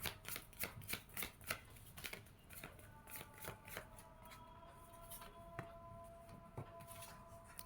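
Tarot cards are shuffled in a rapid series of soft riffling slaps, then a few separate cards are slid and drawn, close and quiet with no talking over them.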